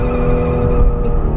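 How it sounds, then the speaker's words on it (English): A 2017 Infiniti Q60 Red Sport 400 does a burnout, its engine roaring loud and steady with harsh tire noise, close up and with no talking. "Should we just start every review with a big burnout?"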